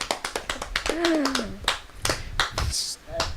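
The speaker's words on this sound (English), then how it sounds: "Everybody clap." A small group claps briefly on a casual podcast, a quick run of sharp, close hand claps mixed with a bit of cheerful vocal noise.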